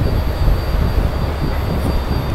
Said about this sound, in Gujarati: પંખા તો જો એવડા મોટા મોટા હેલિકોપ્ટર ના એવડા એવડા ફેરે